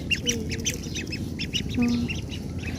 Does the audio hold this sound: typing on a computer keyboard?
no